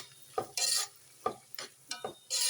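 Tomato paste frying in a pan for tomato rice gives short bursts of sizzling and scraping as it is stirred, close and moderately loud with brief gaps between strokes.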